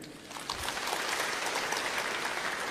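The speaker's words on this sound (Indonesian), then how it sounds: "Tepuk tangan untuk budaya Sunda" Crowd applause at a Sundanese cultural speech event, a dense steady clapping that swells after a brief softer start and holds at an even level throughout, with no voices over it.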